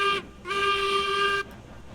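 A train in the railroad simulation game Railroads Online sounds its horn. A short, loud toot is followed by a longer sustained blast, both close and clear.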